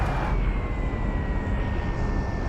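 A propeller airplane passes overhead in the PUBG Mobile battle royale game, its steady engine drone filling the whole stretch loud and unbroken, with no voices.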